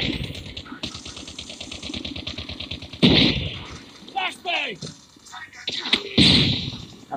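Fast automatic gunfire rattles in a Call of Duty Mobile match, a steady loud burst followed by scattered shots and game effects, with talk in between.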